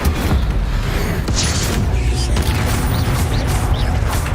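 Confringo explosive spells cast in the Hogwarts Legacy video game burst repeatedly amid a dense, continuous roar of game combat, with booming impacts and crackling bursts layered close and loud throughout.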